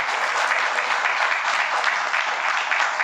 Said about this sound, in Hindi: एक जोरदार तालियों से उनका स्वागत है।